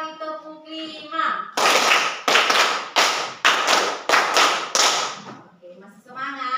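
Students in a class clap together in a counted ice-breaker routine, about six strong, evenly spaced bursts of group clapping, with a teacher's voice before and after.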